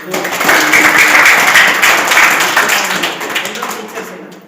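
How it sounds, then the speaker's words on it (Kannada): An audience at a government model primary school function in Udamanalli, Chitguppa taluk, Bidar district gives the teachers a loud, dense round of clapping that holds steady, then tapers off near the end. "ಒಂದು ಜೋರಾದ ಚಪ್ಪಾಳೆ ಸರ್"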